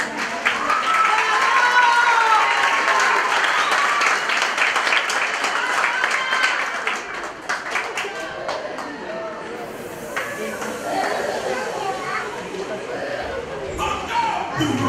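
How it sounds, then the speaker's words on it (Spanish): An audience at a gala tribute applauds a dance group from the Ritmo Libre school, steady clapping that gradually thins out as music and a voice begin to come through. "Aplausos para ellas, por favor."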